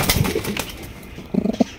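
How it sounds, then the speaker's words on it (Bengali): Gola pigeons in a bird shop, heard as a few short, close coos and soft bird sounds, with a brief cluster of cooing toward the end over a noisy shop background. "এখানে রয়েছে চমৎকার আরো একটা গোল্লা কবুতর।"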